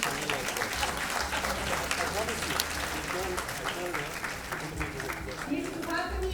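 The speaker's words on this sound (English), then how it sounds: "Please welcome them with a huge round of applause as I call them to come." A conference audience claps to welcome panelists onto a stage at a gender-equality event, a sustained crackle of applause with an announcer's voice speaking over it near the end.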